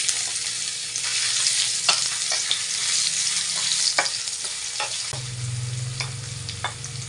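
Ginger sizzles and sputters steadily in hot oil for an adobong palakang bukid, with scraping stirs and small pops, and a low hum entering partway through.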